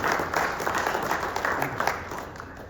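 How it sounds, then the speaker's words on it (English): A roundtable audience at a veterans event claps in warm, sustained applause, a dense patter of hands close by that fades slightly toward the end. "give Dwayne a big round of applause"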